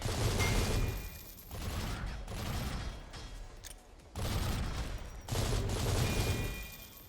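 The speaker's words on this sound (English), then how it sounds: "The Warthog Assault Light Machine Gun. We got the Juggernaut variant." Warthog Assault Light Machine Gun, Juggernaut variant, firing in the game SYNTHETIK 2: loud sustained bursts of rapid automatic fire, broken by short pauses, with mechanical clanks between bursts.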